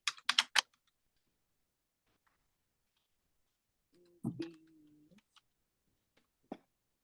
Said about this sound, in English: even just typing in the number and the dot